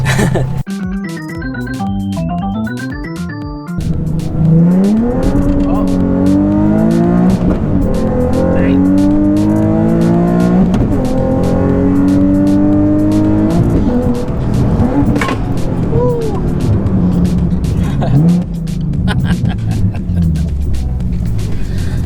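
A tuned Nissan 370Z revs hard and accelerates with tires squealing from wheelspin, engine howling loud and close through rising gear pulls, with voices briefly over it.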